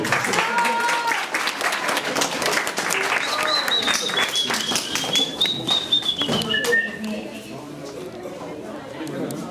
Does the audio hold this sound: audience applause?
yes